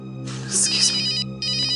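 A phone ringtone trills loudly and close by, a bright electronic melody playing continuously with a short dip before resuming.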